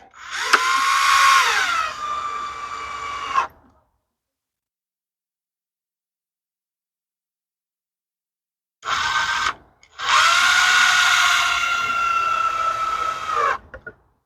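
A power drill driver runs at high speed with its clutch set all the way down, whining loudly for about three seconds, then falling silent before a short burst and a longer sustained whir near the end, with no voices.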